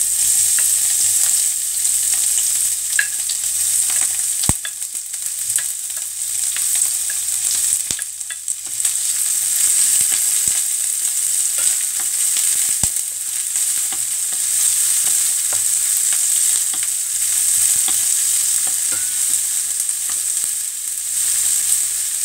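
Onion fries in a pan for ginataang kalabasa, giving a strong, steady bright sizzle throughout, close and loud, with an occasional faint clink of a utensil.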